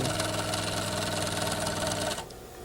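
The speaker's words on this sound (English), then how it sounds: "Turn at the corner with the needle down and stitch the remaining seam." A sewing machine runs steadily while stitching the remaining seam of a garment after turning at a corner, a close, continuous mechanical whir that stops abruptly near the end.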